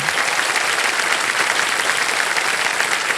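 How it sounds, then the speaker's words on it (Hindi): A large studio audience applauds on a TV quiz show set. The clapping is dense, loud and sustained, a continuous wash of many hands with no break. "इतने लोग सब ताली बजा रहे हैं"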